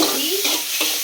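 Sugar being mixed into sev, a brief rough rustling and scraping swish of stirring, close and fairly loud, no voices.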